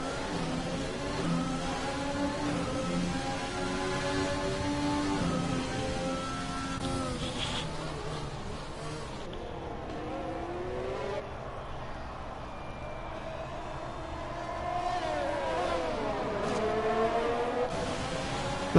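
Formula 1 race car engines in a racing video game at Monaco, several high-pitched engines whining and sweeping up and down through gears as cars pass, steady and fairly loud, with no talk.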